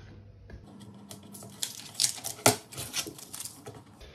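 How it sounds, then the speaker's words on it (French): Crackly, tearing taps and snaps as masking tape is pulled off wood in short uneven bursts, building to a sharp peak midway. "il faut retirer tout ce scotch"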